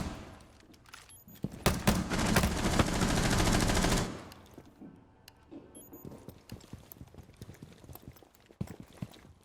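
Gunfire in a shooter video game: a dense rapid burst of automatic shots lasting a few seconds, followed by scattered quieter single shots and clicks, with no talk.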